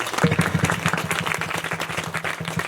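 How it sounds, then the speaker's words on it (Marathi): A women's kirtan audience at an Akhand Harinam Saptah claps together in a steady, fast rhythm. The dense, even beat fills the hall and carries on without pause. "तुम्हाला टाळ्या वाजायचं माहिती का"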